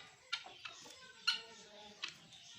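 Caged chukar partridges in a village bird collection give four short, sharp chirping calls spaced irregularly, faint against a quiet background.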